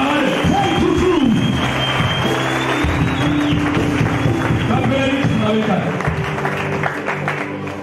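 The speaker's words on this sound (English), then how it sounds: "clap for Jesus, somebody" A church congregation claps and cheers in praise after a healing, the dense crowd noise loud and steady throughout, with voices and whoops mixed in under talk.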